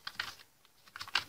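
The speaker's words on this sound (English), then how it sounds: "I'm just typing an email address I'm willing to take" Quiet, quick clicking of keys on a computer keyboard as an email address is typed in, two short bursts of keystrokes separated by a brief pause, with no talking.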